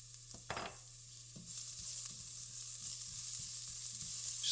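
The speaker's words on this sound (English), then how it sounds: "Just let that cook and sizzle for about 2 minutes or so." Vegetables sizzle steadily in a hot pan, a soft continuous crackle with a few clinks and stirring knocks near the start.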